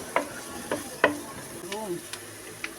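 Onions go into a pan for a tuna and mushroom dish and are stirred, giving a few sharp scraping clacks of a utensil against the pan over a faint sizzle, close by with no talking.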